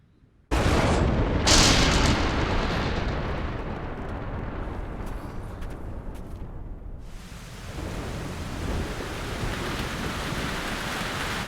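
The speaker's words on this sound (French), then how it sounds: "Cette tempête est violente" A violent rainstorm in an animated film begins abruptly as a loud, dense downpour. It eases and dips briefly partway through, then the heavy rain hiss returns and holds steady.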